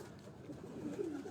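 Domestic pigeons of a Pipla bloodline give a soft, low coo, faint and close, over quiet background hiss.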